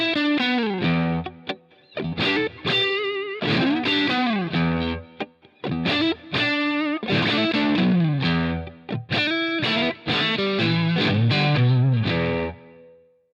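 An electric guitar played through a Line 6 Helix, with distortion, chorus-like shimmer and reverb, rings out in bright, overdriven chords and bends with short gaps, each phrase decaying into reverb.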